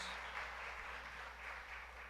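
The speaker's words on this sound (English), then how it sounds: "Give her a round of applause for doing a great job with the stones." Unitarian church congregation applauds in a sanctuary, a soft, even patter of many hands held at low volume over a steady low hum, with no voices heard.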